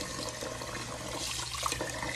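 Water running steadily from a tap while something is washed, a soft continuous splashing and trickle close by, fairly quiet and heard alone without talk.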